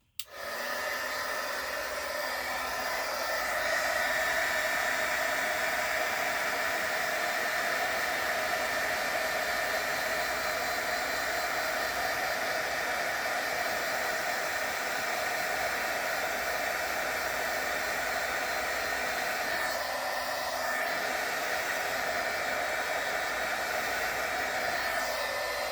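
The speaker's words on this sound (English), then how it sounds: "we're going to turn our heat gun back on" A heat gun runs continuously at close range, switching on abruptly and then holding a steady loud whooshing blower hiss with a faint whine, slight shifts as it moves.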